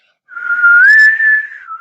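A person whistles in imitation of a ship's bosun pipe call: one loud, close, sustained tone lasting over a second that slides slightly upward, holds steady, then drops at the end, with no talk.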